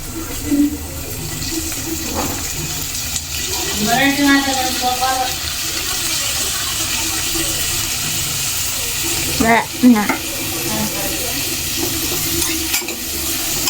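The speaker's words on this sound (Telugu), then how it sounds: "ఇప్పుడు మనం ఇది టమాటాలు వేస్తున్నాం" Tomatoes sizzling in a pan while being stirred, a steady frying hiss with scraping stirs and a couple of brief voiced bursts overlapping midway.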